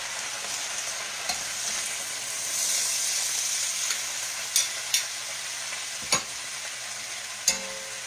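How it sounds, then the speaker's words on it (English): Collard greens stir-fry in a hot pan and are turned with a spoon, giving a steady close sizzle and hiss broken by a few sharp scraping clicks of the spoon against the pan. "take a spoon and try to get the ones on the bottom on the top"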